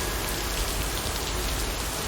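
Steady, heavy rain in the video game Lake pours down in a constant hiss, dense and unbroken, with no voices.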